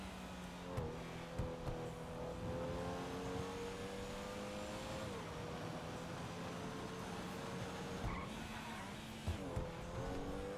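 A car engine in a video game hums steadily at a constant pitch for several seconds, with a couple of dips and shifts in tone and occasional soft clicks, fairly loud and uninterrupted.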